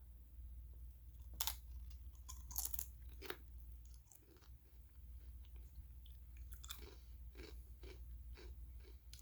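Crunchy bites of a thick sour cream and onion garden veggie chip made with spinach, broccoli and peas, with several sharp crunches then steady close-up chewing, no talking.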